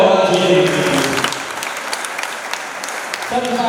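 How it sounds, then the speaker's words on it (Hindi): An audience at a religious teaching gathering claps as a voice fades out at the start, the applause filling the middle stretch at moderate loudness before speech returns at the end. "जोरदार तालियां होना चाहिए।"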